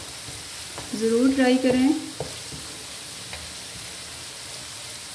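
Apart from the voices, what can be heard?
garlic frying in oil on low flame for chana dal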